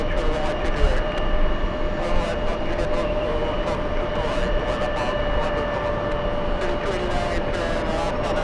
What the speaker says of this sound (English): Lufthansa on the roll.